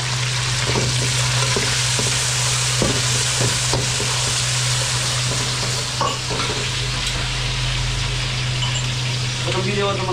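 Garlic, onion and chili sauté for a spicy wings sauce, a loud, continuous sizzle with a steady hum underneath and scattered utensil scrapes and taps, with talk in the background.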